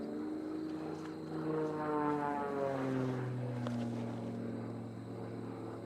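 Aerobatic propeller plane flying competition figures at the US Nationals, a steady engine drone with clear harmonic tones sliding down and up as power and speed change through the manoeuvres, moderately distant and alone.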